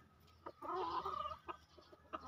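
A chicken gives a short run of soft clucks and a brief squawk, close by and fairly quiet.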